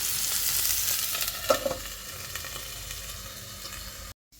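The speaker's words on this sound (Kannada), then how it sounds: "ಇಲ್ಲಿ ಮೀನು ಫ್ರೈ ಮಾಡಲಿಕ್ಕೆ ಇಟ್ಟಿದ್ದೇನೆ." Fish fries in a pan with a steady crackling sizzle, with a few light utensil knocks partway through, before cutting off abruptly at the end.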